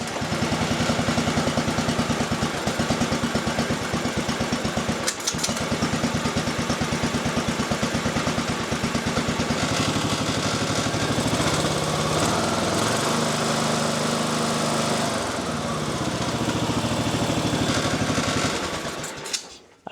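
A Poulan Pro lawn mower engine idles with the choke on, a loud, close, continuous rattling drone that stays steady for the whole stretch and cuts off at the very end.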